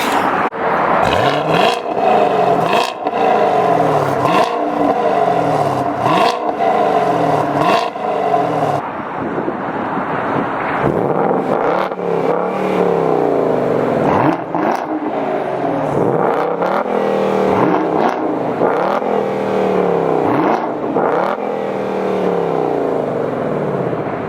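A 2019 Chevrolet Camaro SS or 2019 Ford Mustang GT V8 revs hard in a series of sharp throttle blips, each rising and falling quickly, followed by a smoother stretch of repeated rapid revving, loud and close.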